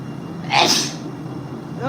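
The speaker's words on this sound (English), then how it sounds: "I just sneezed, hold on." A single sharp sneeze bursts out, close and loud, followed by a brief quiet stretch and a faint voice starting at the end.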